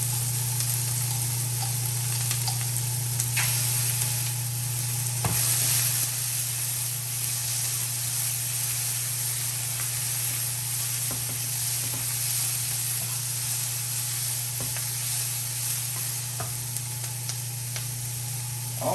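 Steady sizzling hiss of minced ginger stir-frying in hot oil for shrimp chow mein, continuous and fairly loud, with occasional faint clicks of a utensil and a low constant hum beneath.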